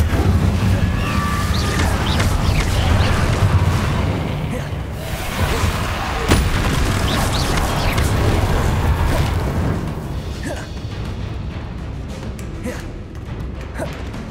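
Incendio fire spell blasts in the PS5 game Hogwarts Legacy, heavy booming whooshes and crashes in a dense, loud stream of combat effects, with a voice calling out the spell amid the clatter.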